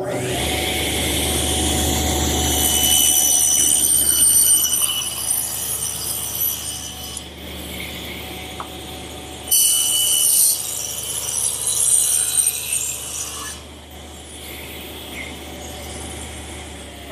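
Table saw ripping wooden panels laid flat in a woodworking shop, a high whining motor with bursts of harsh cutting noise, two passes separated by a short drop, the second pass starting abruptly and tapering off.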